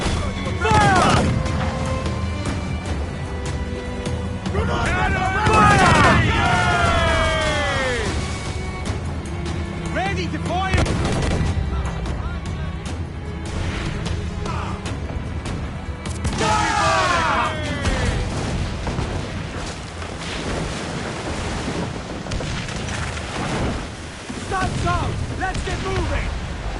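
A ship's cannon broadside fires in Assassin's Creed Black Flag, heavy booming blasts rolling out over a naval battle with crew voices shouting throughout and dense rumbling combat noise underneath.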